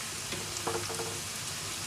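Onions and green chilies frying in a pan for tomato-onion chutney, a dense continuous sizzle with a few faint stirring clinks partway through, close and alone.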